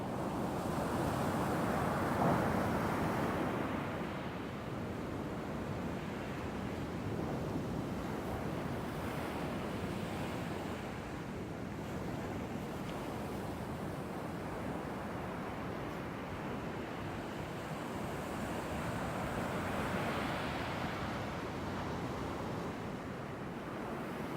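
Pacific Ocean waves breaking on the shore, a continuous low roar of surf with slow swells in intensity, heard alongside steady wind buffeting the microphone, with no voices.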